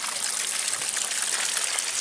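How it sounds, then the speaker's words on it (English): Water gushes steadily out of an old wishing well at Waggoners Wells in Hampshire, a continuous bright splashing flow with no voices. "The water in the wishing well is flowing out"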